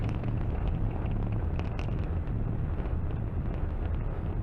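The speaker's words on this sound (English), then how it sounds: "Falcon 9 has successfully lifted off from pad 39A." A SpaceX Falcon 9 rocket climbing after liftoff from pad 39A roars as a deep, continuous rumble with wind-like buffeting, loud and unbroken throughout.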